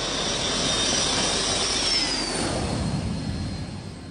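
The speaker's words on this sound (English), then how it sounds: "A small private jet takes off from an improvised airstrip carved out of dense jungle." A small private jet takes off from an improvised airstrip cut into dense Guatemalan jungle, its engine roaring steadily with a high whine that holds loud and then begins to fade.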